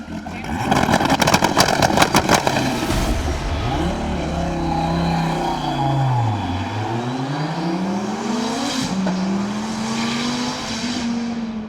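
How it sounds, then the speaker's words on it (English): A tuner car roars and revs hard, its engine note climbing and falling through gear changes as it launches into a wheel-spinning burnout, loud and close and continuous throughout. "As soon as it hits boost, it's burnouts"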